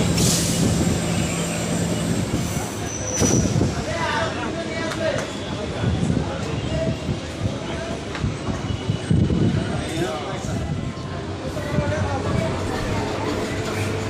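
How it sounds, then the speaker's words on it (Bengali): A Howrah–Bardhaman main line local passenger train rumbles along with rhythmic wheel clatter and rattling carriages, leaving Hooghly station, voices talking faintly over the steady running noise. "হুগলি ছেড়ে এগিয়ে চলল আমাদের ট্রেন"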